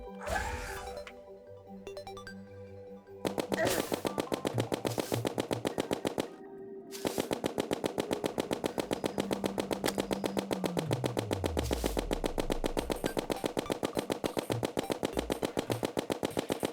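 Rapid automatic gunfire from a gun in the video game Terraria, a fast rhythmic stream of sharp shots broken by brief pauses, with a descending game tone partway through.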